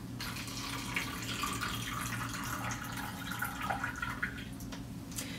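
Water draining and gurgling out of a sink after washing with ionized water, a low, steady trickling and bubbling flow heard close up at quiet level with no talking.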